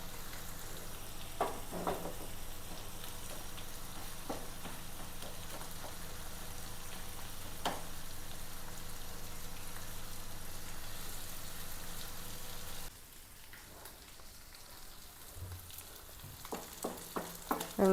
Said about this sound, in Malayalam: അങ്ങനെ നമ്മുടെ മത്തി വറുത്ത് റെഡി ആയിട്ടോ